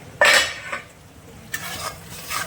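Bhola fish in mustard-poppy masala being stirred and fried in a pan with chopped chili, heard as a short burst of scraping and sizzling, a brief lull, then further clinks and stirring noises close by.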